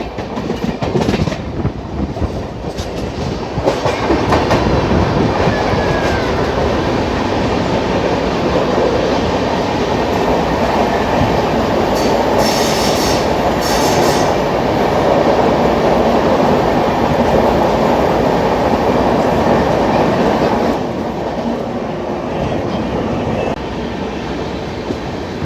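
The 12615 Grand Trunk Express rumbles through a tunnel, a loud, continuous roar of wheels and carriages with steady clickety-clack and occasional faint squeals, heard from inside the train.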